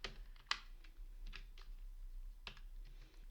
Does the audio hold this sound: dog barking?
no